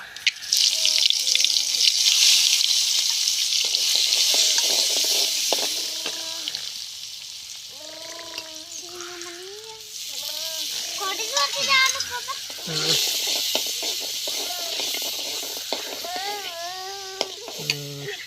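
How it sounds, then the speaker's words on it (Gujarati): Vaghar of chili tempering in hot oil for homemade batata poha sizzles steadily and loudly, fading somewhat midway, while people talk over it throughout. "વઘાર થાય રહ્યો"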